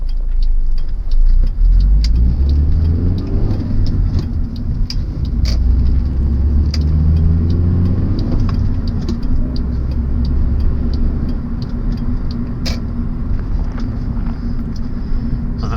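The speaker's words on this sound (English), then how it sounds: "let the clutch out, then you rev the engine" A car engine rumbles loudly and continuously, its pitch rising and falling as it revs to rev-match a downshift, with no voices present.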